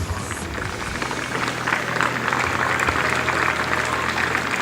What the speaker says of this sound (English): for that encouraging round of applause.